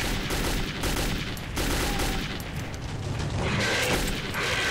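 Revolver gunfire in the video game Metro 2033, a dense run of loud, close shots and bursts sounding continuously throughout, mixed with game mechanism noise.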